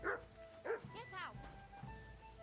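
A dog in the medieval game Kingdom Come: Deliverance 2 gives a couple of sharp barks and yips, mixed with a whining, whimpering tone, close by and moderately loud.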